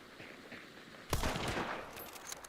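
Rapid burst of gunfire from the video game Dune: Awakening breaks in abruptly after a quiet opening, with sharp close shots tapering into a trailing stutter.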